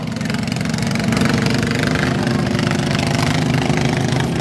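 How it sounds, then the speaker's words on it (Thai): A water pump engine runs steadily at a Thai tractor racing event in Nong Don, Saraburi, with a loud, continuous low rumble and knocking idle throughout. "ดับเครื่องได้เลยเครื่องสูบน้ำดับได้เลย"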